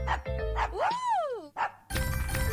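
A dog in a video game yips and barks in short bursts, with a rising and falling whimpering whine in the middle, close and clear over a busy game soundscape.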